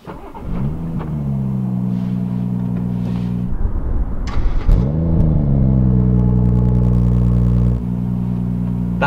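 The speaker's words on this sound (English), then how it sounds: "So let's just enjoy this cold start." A BMW M140i engine cold start: it cranks and catches, then settles into a loud, steady idle; after a pause it cranks again and fires into a rough, rumbling idle.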